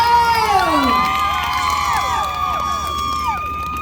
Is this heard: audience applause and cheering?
yes